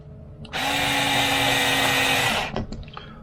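Cordless M4 screwdriver driving screws into billet bead lock wheels for a 1/5 scale RC truck, one loud steady whir of about two seconds close up, then a few small clicks and taps.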